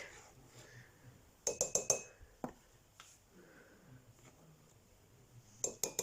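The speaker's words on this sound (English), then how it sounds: "grab some flour and our tablespoon. We want 3 level tablespoons to go in our mug" A tablespoon scoops flour into a mug, giving a quick cluster of bright ceramic clinks followed by a quiet stretch, then another short burst of clinking near the end.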